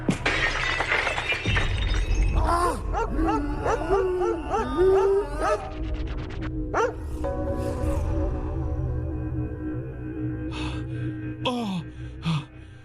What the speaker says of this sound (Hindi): वो पेंटिंग टूट गई